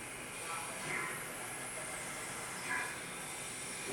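Union Pacific Big Boy steam locomotive on display in Green Bay, Wisconsin, giving off a steady broadband hiss of steam, loud and continuous with slight swells.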